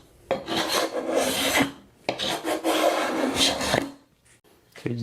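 A card scraper scrapes dried glue off wooden end grain in two long, close rasping strokes, each a gritty scratchy sweep of about a second and a half, followed by short quieter scrapes.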